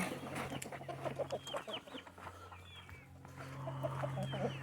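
Chickens cluck softly and steadily inside a winter coop warmed by heat from composting material, with a low constant hum underneath and occasional brief scratchy sounds.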